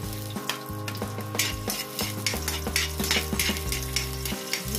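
Precooked beef being sautéed in hot oil, a bright crackling sizzle with repeated stirring scrapes and clinks from the pan, close and busy throughout, with no talking.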